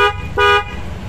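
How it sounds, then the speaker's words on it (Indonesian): Two short, loud honks from a Denso snail-type horn on a Honda Vario motorcycle, a bright high-pitched toot repeated once after a brief gap. "nah ini klakson keong yang bunyi"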